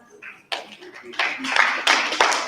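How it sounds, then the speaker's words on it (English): A round of applause from a small audience at a community gathering starts after a brief spoken bit and swells in sharp clustered claps, growing louder and denser over two seconds. "Let's give a round of applause."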